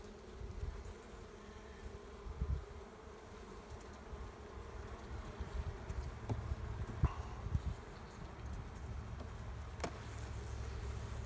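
Honey bees buzz steadily in a low, continuous drone around an opened hive during a spring inspection, with scattered clicks and light handling noises close by.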